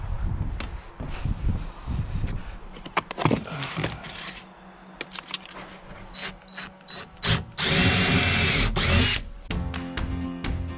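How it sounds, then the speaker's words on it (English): Power drill pre-drilling holes in wooden roof rafters while installing a ridge pole, several whirring bursts of varying length separated by short pauses, close and loud with workshop clatter between. "I'm thinking I might want to pre-drill these too, just to make it easier on us"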